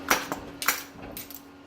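A bolt works as a slide hammer on a Toyota 22R/RE engine to pull out a pilot bearing. Three or four sharp metallic knocks land at uneven intervals, fairly close, with no talking.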